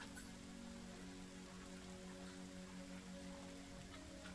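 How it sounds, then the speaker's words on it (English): Rain falling outside, a faint, even, continuous hiss of drops with no break or talking. "you hear the rain starting to pick up outside"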